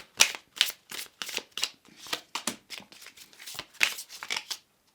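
A deck of tarot cards being shuffled by hand, with a quick series of crisp riffling bursts and soft slaps in an uneven rhythm, close and clear with no talking.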